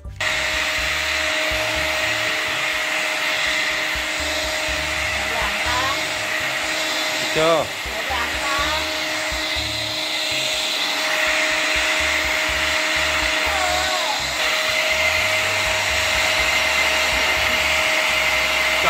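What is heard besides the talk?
vacuum cleaner running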